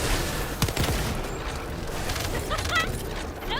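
Rapid automatic fire from the Thunder Cage weapon in the shooter The First Descendant, a fast, continuous rattle of shots with a few sharper reports, holding a fairly even level throughout.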